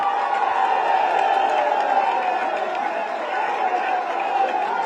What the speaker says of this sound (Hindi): मैं चाहता हूं उनका भी जोरदार तालियों से आप स्वागत करें।